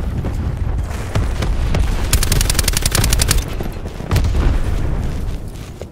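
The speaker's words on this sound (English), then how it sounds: "Cluster grenades, GTG." Cluster grenades burst during fast video game combat in a loud, rapid string of sharp explosions and gunfire that peaks midway and is followed by another heavy blast.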